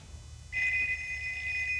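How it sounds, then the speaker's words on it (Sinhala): A phone ringing in the mobile action game Payback 2: a steady, bright electronic ring that starts abruptly and holds at an even level over a low background hum, with no talking. "කෝල් එකක් එනවා කාටද?"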